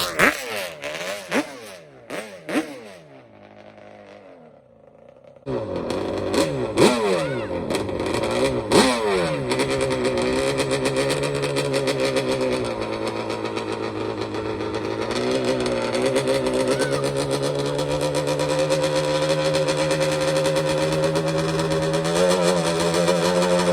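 A Yamaha Banshee quad fitted with an 18DMX engine, run on a shakedown after carburetor cleaning: sharp two-stroke revs and blips at first, then a brief lull, then a close, loud, continuous buzzing run with rising and falling throttle.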